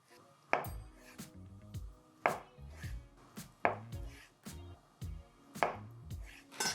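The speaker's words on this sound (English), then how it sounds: "I'm gonna chop it into kind of nice, smaller size blocks, and we're gonna chop them into cubes" A knife chops a block of tofu into cubes on a cutting board, with sharp, evenly paced thuds about every second or so, close and crisp, each followed by a short clack of the blade.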